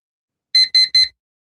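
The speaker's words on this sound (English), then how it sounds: "Beep, beep, beep." Three short, bright electronic alarm beeps in quick even succession mark the end of a countdown timer during a live trading challenge, loud and isolated against silence.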